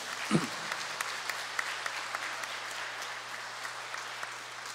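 A church congregation at Sunday Mass applauds to welcome catechumens, a steady, soft wash of clapping filling the hall after a brief low thump.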